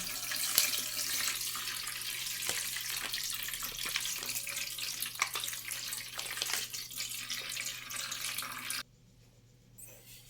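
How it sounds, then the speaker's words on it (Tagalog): Vinegar poured over squeezed grated papaya for homemade atchara, a continuous hissing pour that runs steadily for several seconds before stopping abruptly. "Lagyan na po natin ang suka."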